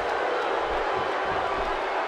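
Broadband crowd roar from a WWE 2K16 wrestling match, King of the Ring 1997 with the Hart Foundation against Vader, Shamrock and company, holding steady and loud throughout with no break.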